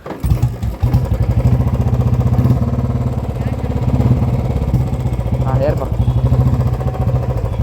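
A Royal Enfield 350 motorcycle with an extremely loud exhaust idles close by with a deep, steady, thumping pulse throughout, while someone talks over it.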